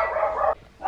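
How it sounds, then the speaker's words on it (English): A dog gives one short bark, close and fairly loud, with the sound cutting off abruptly before a faint start of another at the end, in a home setting. "sorry, the dogs are barking"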